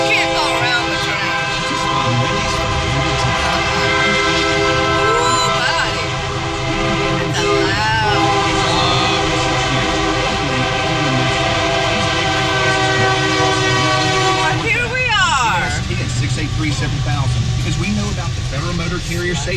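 A train rolls steadily past a road crossing, its loud multi-tone horn sounding long sustained blasts over continuous rumbling wheels and engine noise, with a brief break before the horn sounds again.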